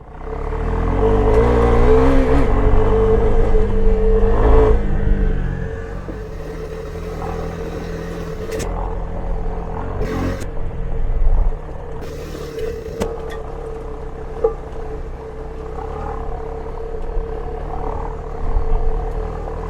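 A car climbs a dirt mountain road toward Santiago Peak, its engine loud and strained under load in third gear, with a steady drone that eases after the first few seconds and brief clunks and rattles from the rough track.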